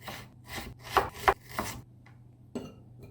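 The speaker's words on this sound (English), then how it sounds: "Cut half of an onion into strips and break up the onion." A knife cuts half an onion into strips on a board, landing about six crisp chops in an uneven rhythm with brief pauses, close and clear with no voices.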